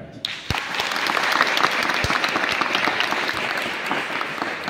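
Audience applause fills a hall during a Marathi speech about Dr. Babasaheb Ambedkar, a dense steady clapping that rises quickly and holds loud throughout, with a few sharp louder claps standing out.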